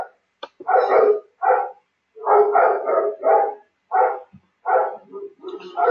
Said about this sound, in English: the dog will not go away